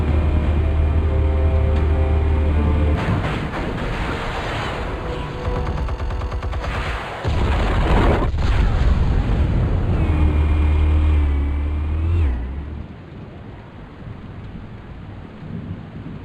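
Explosives detonating in Batman: The Telltale Series, heavy rumbling blasts and booms over a sustained low drone, loud and continuous before tapering off.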